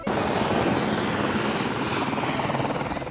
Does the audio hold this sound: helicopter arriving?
yes